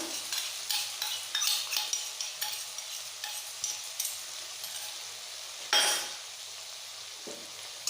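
Ginger-garlic paste and chillies are stirred in a pan for prawn curry, a soft sizzle broken by repeated light scraping strokes and one louder clatter, with no talking.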